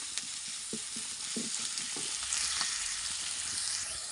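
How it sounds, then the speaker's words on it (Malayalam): Curry leaves fry and are stirred in hot oil, giving a steady close sizzle with soft scraping stir strokes scattered through it. "കരിവേപ്പിൻ്റെ ഇല ഇട്ടിട്ട് അതും കൂടെ ഒന്നങ്ങോട്ട് നമുക്കിതൊന്ന് ഇളക്കി കൊടുക്കാം"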